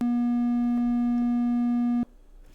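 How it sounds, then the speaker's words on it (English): A synthesized triangle wave holds one steady, soft, buzz-free pitch for about two seconds, then cuts off abruptly into near silence. "here's the triangle wave, as I say, a triangle, so very obvious why it's named that"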